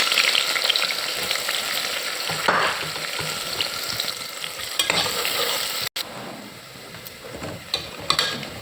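Onions sizzle in hot oil in a pan for mutton curry, a steady close frying hiss broken by a few stirring scrapes, with no voices.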